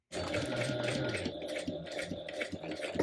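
A sewing machine bastes a handbag seam with a close, continuous whirring drone and a faint rhythmic stitching pulse that starts abruptly and runs without pause.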